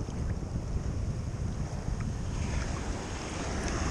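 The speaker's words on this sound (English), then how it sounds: "The waves are rolling in a little stronger than I like" Ocean waves roll in at a bay, a constant low rumbling surge heavily mixed with wind buffeting the microphone, steady and close throughout with no speech.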